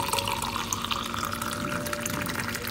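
Water runs from a tap into a glass that already holds squeezed lemon juice, making a steady, close, fairly quiet trickling stream with a faint rising tone as the glass fills.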